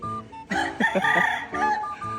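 A rooster crows nearby, a long harmonic cock-a-doodle-doo rising and falling, with short clucks before and after.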